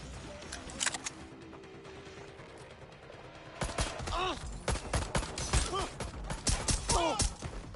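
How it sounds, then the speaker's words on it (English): Rapid bursts of video game gunfire in Watch Dogs Legion: sparse shots at first, then a dense, loud fusillade of overlapping cracks and ringing impacts in the second half. "Suspects last known gunfire over here."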